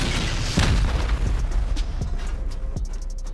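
A rocket exploding during a raid in a survival shooter game, a loud deep boom with rumbling debris and smaller pops trailing off over a few seconds.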